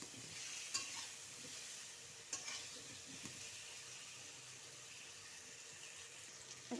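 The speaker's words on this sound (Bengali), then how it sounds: "একটু আলুটা ভাজা ভাজা হয়ে গেলে নামিয়ে নেবো" Potato pieces frying in oil in a pan, a continuous low sizzle with occasional sharp clinks and scrapes of stirring, close by and without voices.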